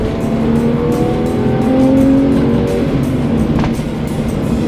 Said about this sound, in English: just to get in the car and drive it